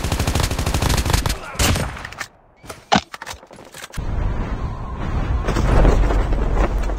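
AK-47 assault rifle fire in a video game: loud, rapid automatic bursts close up, broken by a short pause with a few single shots, then sustained firing again.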